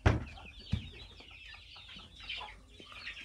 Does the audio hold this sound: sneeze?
no